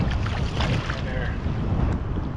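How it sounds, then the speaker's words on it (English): Steady, rushing wind gusts buffet the microphone outdoors on the Columbia River, a continuous loud roar with no voices. "Big gusts coming down, actually up the river."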